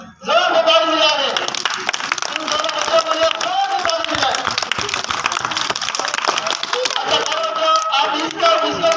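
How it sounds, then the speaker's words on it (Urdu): Schoolchildren at a magic show break into loud, sustained clapping that fills the room from start to finish, mixed with voices shouting and chattering in a busy, close crowd. "زور سے تالی ملا دے"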